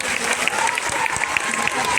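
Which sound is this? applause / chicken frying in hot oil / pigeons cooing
applause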